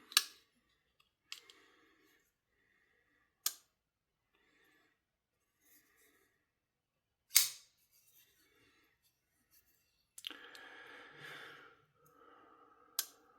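Twosun TS367 folding knife blade snapping open and shut with drop shot action, a handful of sharp, close clicks spaced several seconds apart in a quiet room, with faint breathing and handling noise between them.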